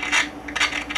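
Metal capacitor plates scraping against each other inside a 1948 Motorola 5A7A portable tube radio, a close, thin rasping rub in two or three short bursts with no talking.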